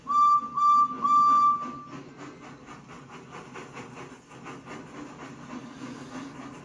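A shrill steam train whistle in a Roblox railway game blows three short times, followed by the rhythmic chuffing and rumble of the engine moving along.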